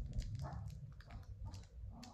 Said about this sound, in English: apologies if you can hear my dogs barking in the background